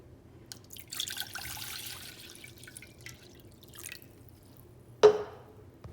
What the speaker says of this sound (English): So the first step would be to add 6 cups of vinegar to your pot.